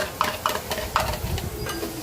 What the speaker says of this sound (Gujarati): જો મેં એને કાંદા વઘાર્યા છે, પહેલાં બધા ખડા મસાલા નાખીને